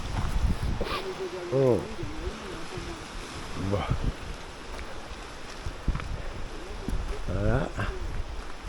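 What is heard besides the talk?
sea waves and wind on the coast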